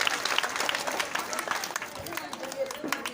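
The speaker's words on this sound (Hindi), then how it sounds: "ताली बजाइए इन बच्चों को" An audience at a religious gathering applauds, dense, continuous clapping from many hands with crowd noise, filling the whole stretch without pause.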